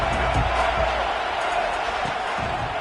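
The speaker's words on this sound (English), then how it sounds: "This crowd ready to make its presence known." A packed stadium crowd at an American football game roars in a dense, continuous wall of noise, loud and unbroken from start to finish.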